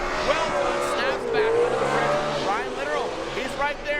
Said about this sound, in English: He's firing all cylinders.